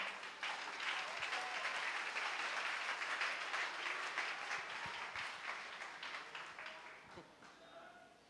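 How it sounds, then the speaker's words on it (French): Congregation applause in a church during a sermon, a steady wash of many hands clapping that holds for several seconds before tapering slightly, with voices murmuring underneath. "Soit applaudis."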